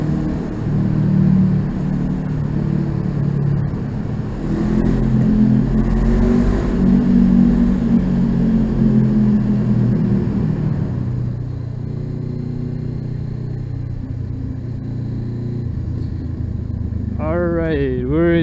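A motorcycle rides through a tunnel into New York, its steady engine rumble loud and close and echoing off the enclosed walls throughout, with a rising revving sweep near the end.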